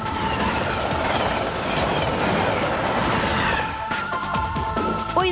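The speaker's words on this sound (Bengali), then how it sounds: "ওই দেখো ট্রেন আসছে" A train rolls along the tracks with a loud, continuous rumble and clatter of wagons, and high wheel squeals ring out toward the end.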